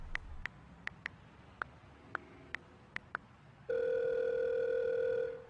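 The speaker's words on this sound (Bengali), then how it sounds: "সায়নকে একটা ফোন করি।" Phone call being placed, a series of short sharp keypad beeps at irregular intervals, then a long steady ringback tone holding for about two seconds, clear and close against a quiet room.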